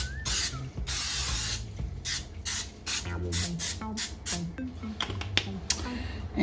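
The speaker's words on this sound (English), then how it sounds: "I'm actually just going to give these a light spray just with some original" Several short hissing sprays from an aerosol can of cooking spray onto a baking tin, close by, interspersed with clattering and light handling noises.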